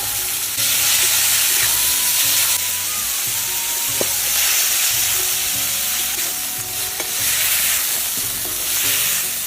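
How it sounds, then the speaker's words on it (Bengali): Small prawns frying in hot oil in a home kitchen pan, giving a loud, steady sizzle with bursts of crackle and a few faint utensil clinks, close up with no voices. "তেল দিয়ে দেই, মাছ কাটা ভাইজে নেবো।"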